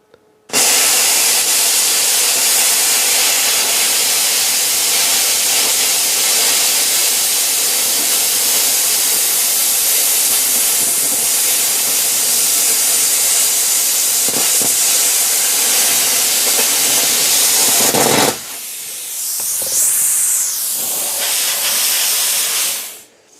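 An R-tech P30 plasma cutter working through a 15mm square steel bar gives a loud, steady roaring hiss for most of the time, then cuts off briefly, restarts and stops.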